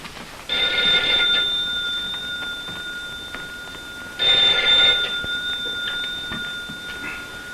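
Old-fashioned telephone bell in a 1960 detective drama, two long electric rings separated by a pause, clear and fairly close in a quiet room.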